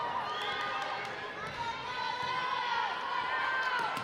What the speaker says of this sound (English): the crowd reacting to every point here in Tewksbury